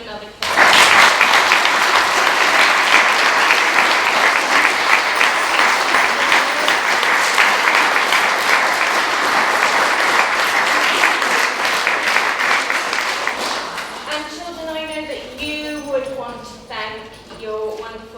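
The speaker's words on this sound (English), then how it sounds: "So let's give them another clap." Sustained audience applause after a primary school Year 6 production of Peter Pan, a dense wash of many hands clapping for about thirteen seconds before fading, then an adult voice begins speaking.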